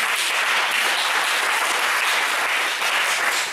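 A church congregation applauds and cheers, a dense, steady wash of clapping that holds loud and even throughout with no voices standing out.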